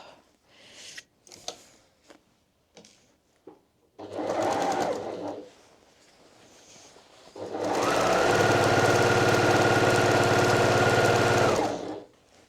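A sewing machine quilts fabric in short bursts, then runs in one long, steady whir close by, with a few faint knocks and rustles in between.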